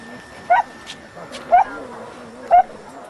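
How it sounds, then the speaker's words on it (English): Dogs near Chengdu, among a group of 149 confiscated dogs, giving three short evenly spaced yips or whimpers about a second apart against a faint background hum. "These are 149 very lucky dogs."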